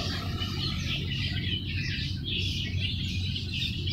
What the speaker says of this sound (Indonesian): Sebenarnya ada burung gagak, ada burung jalak, terus itu apa? Burung murai juga ada murai.